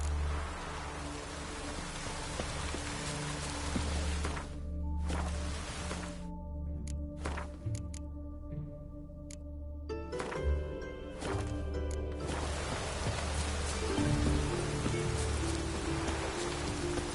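Steady rain in The Witcher 3, with a constant hiss of falling drops throughout and brief gaps and ambient game sounds in between.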